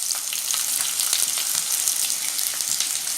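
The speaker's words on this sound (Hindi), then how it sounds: "अब मैं इसमें प्याज डाल दूँगी जो हमने काट के रख दी थी।" Chopped onions frying in two tablespoons of hot oil in a pan while cooking chicken changezi: a steady, dense sizzle that continues throughout, close and fairly loud, with no talk.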